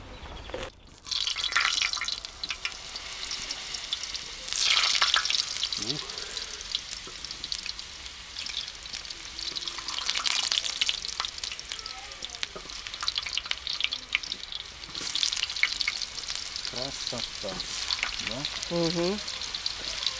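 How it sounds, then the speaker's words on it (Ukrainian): Continuous crackling sizzle of potatoes frying in hot oil at an outdoor country-house cookout, with occasional stirring scrapes and brief voices talking in the background. "на олійки будемо смажити картопельку"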